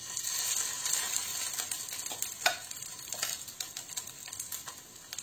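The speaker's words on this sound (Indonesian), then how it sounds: "Kita goreng lagi," A homemade burger patty fries in about a tablespoon of oil, giving a steady, close hiss of sizzling with scattered crackles and small pops throughout.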